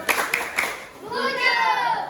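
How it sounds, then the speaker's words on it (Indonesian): A few sharp claps from a group of students in a classroom after a group presentation, then a voice speaking alone over a quiet room. "Kita berikan tepuk ucap untuk kelompok 1."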